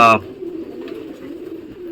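Young pigeons cooing, a low steady murmuring coo that runs close by for most of the stretch after a brief louder burst of other sound at the start.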